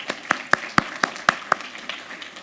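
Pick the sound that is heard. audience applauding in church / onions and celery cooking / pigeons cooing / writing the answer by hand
audience applauding in church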